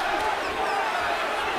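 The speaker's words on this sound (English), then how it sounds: "Crowd is beginning to chant for Tim Bradley." Boxing crowd at a Timothy Bradley vs Ruslan Provodnikov fight, a dense, steady roar of voices building into a chant for Bradley, loud and continuous with no clear rhythm.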